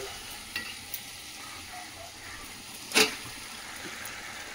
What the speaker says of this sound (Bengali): চিকেনটা দিয়ে ভালো করে একটা কষিয়ে নেব